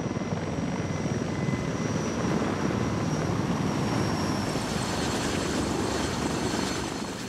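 A helicopter's rotor thrums steadily, a loud continuous whirring drone with no voices.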